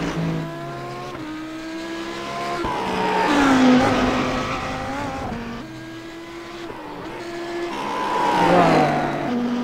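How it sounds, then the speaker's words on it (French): An Audi R8 LMS GT3 race car engine screams in the iRacing simulator on the Nordschleife, rising and falling through repeated upshifts and downshifts with faint tire squeal, loud and continuous. "le bruit du moteur est quand même exceptionnel"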